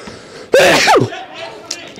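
A single loud, close sneeze bursts out abruptly, a sharp breathy blast with a rising then falling vocal edge, followed by quiet.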